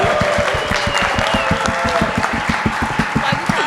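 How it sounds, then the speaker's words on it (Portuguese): An audience at the Influent Summit closes the first day with applause: close, rapid, distinct hand claps over a broader crowd ovation, with voices mixed in. "vamos fechar esse primeiro dia com uma salva de palmas"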